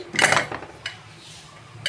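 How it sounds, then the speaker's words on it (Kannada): Metal clanks close by as the whistle weight is pulled off a pressure cooker and its lid is opened after cooking mint pulao, a quick burst of clatter followed by a couple of lighter knocks. "ವಿಸಿಲ್ ತೆಗಿತಿದ್ದೀನಿ ತೆಗೆದು ಕುಕ್ಕರ್ ಓಪನ್ ಮಾಡ್ತೀನಿ"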